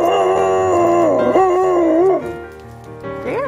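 A dog lying on ice and snow howls in long, wavering, sustained tones that rise and fall, loud and close, then fades to a softer whine near the end.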